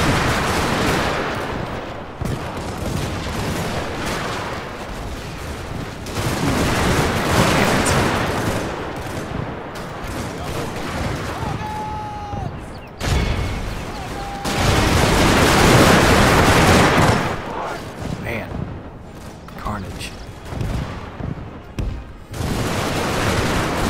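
Missile launches and sustained gunfire in a Total War Steam & Steel battle, dense bursts of rapid shots and booms rolling on continuously, loud and close, with surges of heavier volleys.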